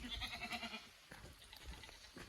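Several frightened goats bleat close by in a hill forest, their wavering cries overlapping in a short burst.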